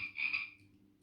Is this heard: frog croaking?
yes